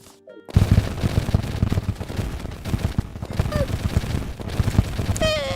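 Rapid, dense gunfire with many bullets in Terraria with the Calamity mod, a steady rattling barrage under game effects, with someone speaking over it.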